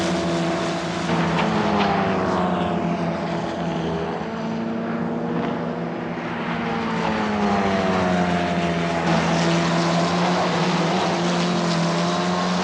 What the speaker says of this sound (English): More cars come through.